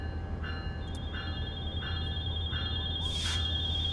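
In Train Sim World 4, a locomotive alerter sounds as a series of faint, evenly spaced electronic beeps, about one every second, under a low steady cab hum.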